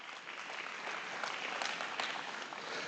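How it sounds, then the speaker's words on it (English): Steady applause from the crowd at a state fair FFA market lamb show, a continuous wash of clapping from many hands heard at a moderate distance, fairly quiet and even throughout. "Let's give these exhibitors a round of applause,"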